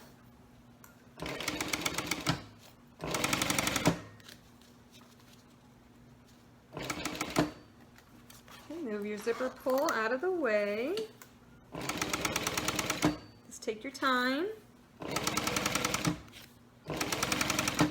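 Sewing machine basting a zipper into a zipper pouch: repeated bursts of rapid mechanical stitching, each a second or two long, separated by pauses, with someone speaking softly between and over the runs.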